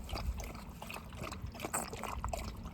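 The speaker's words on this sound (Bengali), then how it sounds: "অস্কার জল খাচ্ছে" Oscar drinking water: quick, irregular wet lapping and trickling sounds, close by and quiet.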